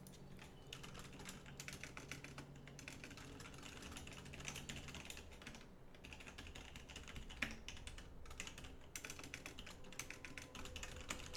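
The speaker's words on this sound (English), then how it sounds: "Sorry, my keyboard is rather loud." Rapid, continuous clatter of a loud computer keyboard being typed on during a live game stream, close and steady with bursts of keystrokes and no talking.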